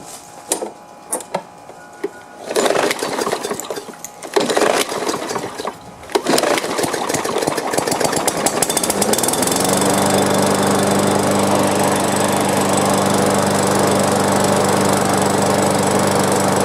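A lawn mower engine is cranked with several short bursts, then catches and settles into a loud, steady running drone close by.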